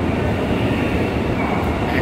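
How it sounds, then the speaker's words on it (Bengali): A Guangzhou to Shenzhen bullet train arriving at the station fills the air with a steady, loud rushing roar that holds evenly throughout, heard up close with no talk. "এই যে আমাদের ট্রেন চলে আসছে"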